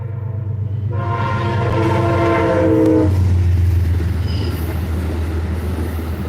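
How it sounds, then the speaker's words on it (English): A loud train rumbles past close by, its horn sounding for a couple of seconds before the heavy rolling noise continues alone. "I hate that train."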